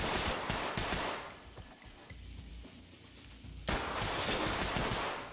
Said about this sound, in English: Oh, I shot the wrong person.